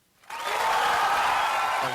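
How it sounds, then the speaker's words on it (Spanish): Applause from a studio audience swells up quickly and holds steady as a dense, continuous clatter of clapping hands, fairly loud and close, with no voices over it. "Aplausos."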